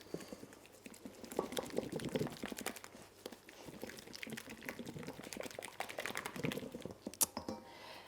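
Okonomiyaki batter being whisked smooth in a bowl, with quick wet clicking and slapping strokes in an uneven rhythm, fairly faint and close, ending with a sharper tap.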